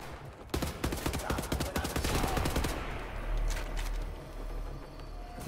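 Gunfire in the video game Wolfenstein, a loud rapid burst of automatic shots lasting a couple of seconds, followed by a few scattered fainter shots and a low rumbling game background.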